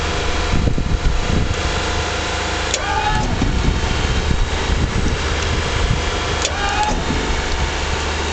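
Steady mechanical whir of a Japanese mini truck's lift box being powered down, a constant motor drone running throughout with a couple of brief clicks.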